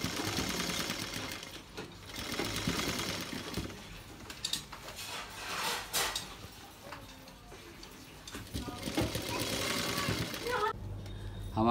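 Sewing machine stitching a gharara's flared panel onto its upper part, a fast steady mechanical whir with rapid ticking that runs in bursts and pauses, near and fairly loud.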